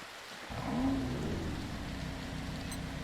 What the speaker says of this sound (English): And it's raining too. Look at that, raining in Oahu.